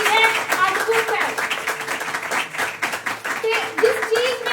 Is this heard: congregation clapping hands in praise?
yes